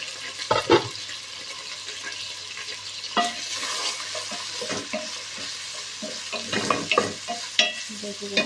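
Vegetables sizzle in a hot pan, a steady close-up fry broken by several scraping stirring strokes and clinks of a utensil against the pan, with no talking.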